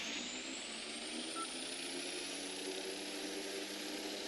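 Airplane engine in a flight simulator game: a constant, even whine and whoosh of the engine runs the whole time without any break, heard alone with no talking.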